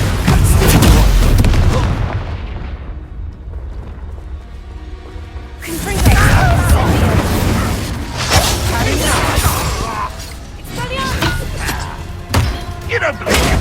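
An Expulso explosion spell in the video game Hogwarts Legacy detonates as a loud booming blast with deep rumbling thuds, followed by a decaying tail and further crashing impacts, with speech mixed in.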